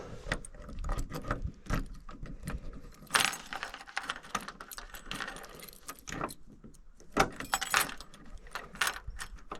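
Keys jingle and clatter in irregular bursts up close while locking a car, mixed with metallic clicks and handling noises, with no voices.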